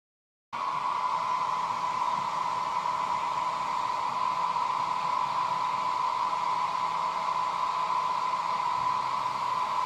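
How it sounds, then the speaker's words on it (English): A hair dryer on its lowest setting whirs steadily, starting abruptly after a short silence and holding a constant airy hum with a tonal whine. "I use a hairdryer on its lowest setting, so it's not that hot, but still pretty hot."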